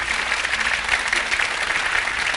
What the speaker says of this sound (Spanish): Un aplauso a ustedes, para el doctor Ciro Castillo.